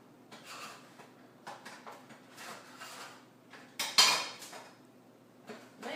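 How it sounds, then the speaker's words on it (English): Knife cutting a slice from a healthy homemade pizza on a plate, with soft scraping strokes and small clinks against the plate, then a sharper scrape. "Let's see if we can cut off the slice here."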